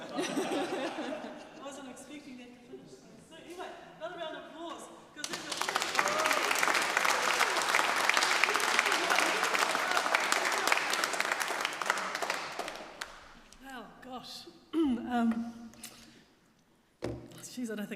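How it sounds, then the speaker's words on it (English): Applause from a gathered audience at a Matariki worship and waiata event, a loud sustained burst of clapping lasting several seconds, with talk and laughter before and after it. "another round of applause"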